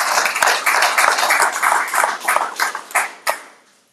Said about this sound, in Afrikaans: Kom ons gee vir hierdie familie 'n lekker groot hande klap vir dit wat hulle gedoen het.